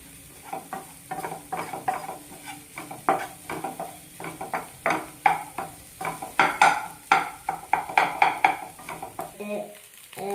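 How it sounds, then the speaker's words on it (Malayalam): Beaten egg is stirred and scrambled as it fries in a pan. A spatula scrapes and taps steadily against the pan over a soft sizzle throughout, close and moderately loud. "ഈ മുട്ട ഒന്ന് ചിക്കി പൊരിക്കണ വരെ ആവണ വരെ നമുക്കൊന്ന് മിക്സ് ചെയ്ത് കൊടുക്കാം."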